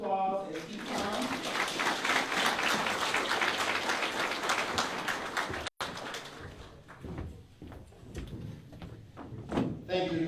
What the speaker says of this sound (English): Let's give him an applause as he comes.